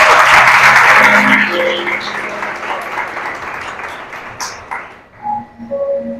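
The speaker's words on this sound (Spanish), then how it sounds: "Denle un fuerte aplauso al Señor." A church congregation applauds during a Spanish-language sermon, loud clapping at first that gradually thins and fades, with scattered voices and a few tonal sounds emerging as the applause dies away.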